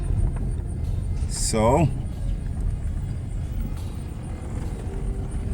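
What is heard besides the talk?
VW Jetta mk5 car driving on a road test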